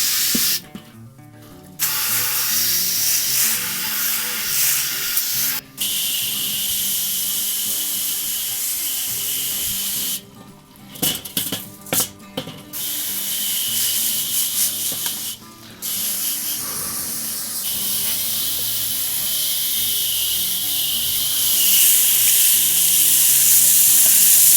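Water sprays hard against a Weber kettle charcoal grill in a loud, close hissing rush, broken by a few short pauses and splashy bursts as the stream moves around the metal bowl, with no talking.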